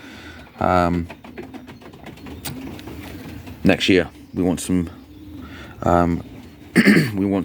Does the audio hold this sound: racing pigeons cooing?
yes